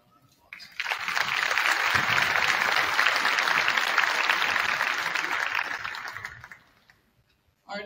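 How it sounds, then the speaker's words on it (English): An audience applauds middle school band musicians at a school cabaret concert. The clapping rises quickly, holds as a full, dense wash for about six seconds, then tapers off into near silence. "Let's give them a round of applause"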